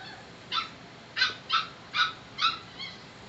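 A dog gives five or six short, high whimpering yips indoors, spaced about half a second apart and fading slightly at the end, with no talk over them.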